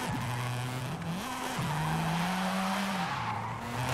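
A Mazda RX-7 drifts in Forza Horizon 5, its tires squealing continuously under a wavering engine note that rises and dips through the slide, loud and steady with no talking.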